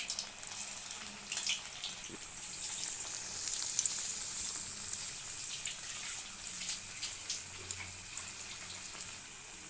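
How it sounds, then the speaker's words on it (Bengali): Spring onion and coriander pakoras deep frying in a kadai of hot oil, a steady, bright sizzle running throughout with faint crackles and occasional spatters, close and unbroken. "পাকোড়াগুলো একে একে ভেজে নেব।"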